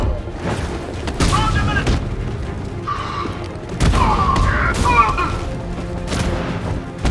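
Enemy weapons fire in Batman: Arkham Knight, loud booming gunshot bursts and impacts layered over busy game effects, with several heavy blasts spread across the stretch.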